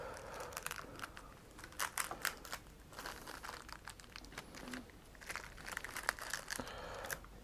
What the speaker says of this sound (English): you gotta be gentle when unwrapping these things